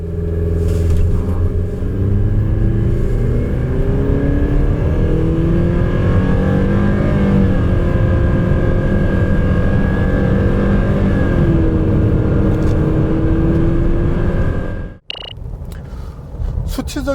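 A 2021 Renault Samsung QM6 2.0 LPe or GDe with a naturally aspirated engine accelerates, its loud steady drone rising gradually over about fifteen seconds before cutting off, then resuming briefly.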